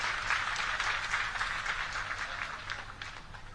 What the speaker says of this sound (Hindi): एक बार जोरदार ताली बजाकर स्वागत करें।